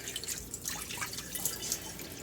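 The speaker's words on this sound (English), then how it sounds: "dump the water" Hot water is poured out of a glass canning jar into a kitchen sink, giving a steady trickling, splashing pour with scattered drips, moderately quiet and close, with no talking.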